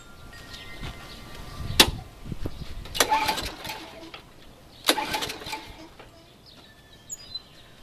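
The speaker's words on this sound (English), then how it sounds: "The first thing you're going to want to do is start your mower." Push lawn mower engine being started: a few sharp pull-cord bursts with brief sputters that fail to catch, then a longer catch and fade, outdoors with birds faintly in the background.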